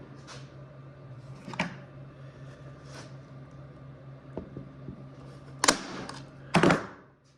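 Staple gun driving staples through fabric onto a bike seat, a few sharp snapping clacks spaced irregularly, the last two loudest, over a low steady hum.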